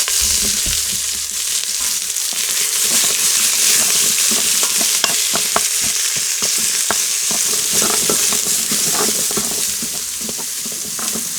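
Onions frying in an Instant Pot, a steady loud sizzle with a wooden spoon scraping and knocking as they are stirred, close up and continuous, no voices.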